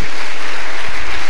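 A church congregation claps in praise, a dense, steady wash of many hands close by with no voices over it.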